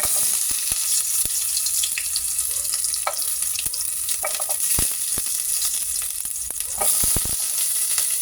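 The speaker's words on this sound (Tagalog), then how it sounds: "So igigisa natin ang ating chicken." Chicken sautéing in a little oil for tinulang manok, a loud continuous sizzle close by, broken by frequent clicks and knocks of a spatula against the pan throughout.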